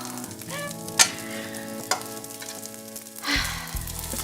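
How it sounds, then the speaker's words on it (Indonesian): Special fried rice sizzles steadily in a hot pan while being stirred, with a few sharp utensil clacks against the pan cutting through the constant frying hiss, and faint music in the background. "ini Safa lagi praktek bikin nasi goreng spesial"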